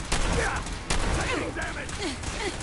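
Gunfire in the Fallout 4 video game, with sharp bursts of shots cracking out in two clusters and shouted battle commands overlapping the shooting.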